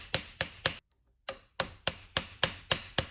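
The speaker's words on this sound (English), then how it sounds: "We're gonna use a socket, a deep socket, to go ahead and pound this on." A hammer pounds an 11/16 deep socket to seat a new steering rack seal on a KRX, about ten sharp metallic strikes in a steady rhythm, close and clear, with a short pause after the third blow.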